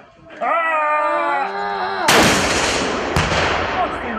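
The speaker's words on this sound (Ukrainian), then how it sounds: "реакція на постріли та вибухи була непідробною" A loud burst of gunfire and explosive blasts erupts after a sustained wailing, siren-like tone, with sharp cracks repeating and echoing through the noise.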